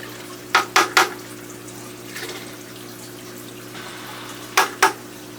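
Aquarium filter parts are rinsed in a bucket of water, giving a few sharp splashes and sloshes in two short bursts, with a faint swish in between over a steady low hum.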